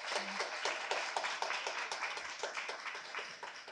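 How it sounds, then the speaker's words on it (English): Audience applause after a reading at a literary festival, a fairly quiet patter of many hands clapping at a steady, brisk rhythm with no voices over it. "Please give her a round of applause."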